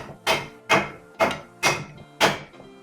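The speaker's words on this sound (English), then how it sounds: "like the water chestnuts. So I'm gonna mince this." Knife chopping water chestnuts on a cutting board in a home kitchen, five sharp, evenly spaced thuds about half a second apart, close and clear with nothing else over them.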